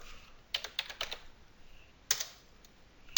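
Keys tap on a computer keyboard during data entry in Microsoft Dynamics NAV 2013 accounting software, a short burst of quick close clicks followed by a few scattered keystrokes, with no talk.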